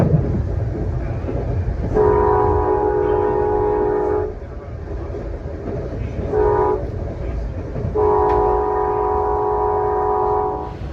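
An Amtrak Empire Builder passenger train rumbles along steadily with a loud rolling roar while crossing the Columbia River, and its horn sounds in three long blasts, the middle one brief.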